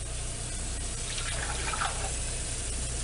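About two cups of water are poured into a cooking pot for ramen noodles, a steady close gush of splashing liquid lasting a few seconds, with no talk.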